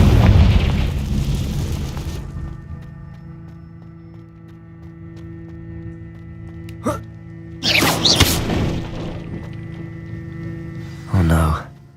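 Confringo fire spell blasts in Hogwarts Legacy burst out as short, punchy explosions, three hits spaced across a quieter stretch after a fading rumble.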